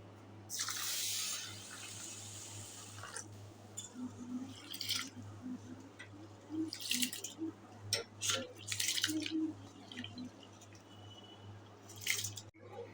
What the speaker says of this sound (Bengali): সব গোবিন্দভোগ চালটা ধুয়ে নিচ্ছি